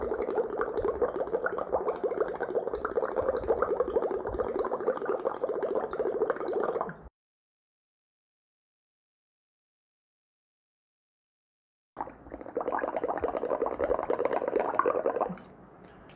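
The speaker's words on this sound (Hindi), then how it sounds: "उसकी नलकी है, उससे फूंक मार रहे हैं, धीरे धीरे फूंक मारनी" Steady bubbling from breath blown through a straw into lime water in a school practical. Two sustained bursts of gurgling are separated by a silent pause.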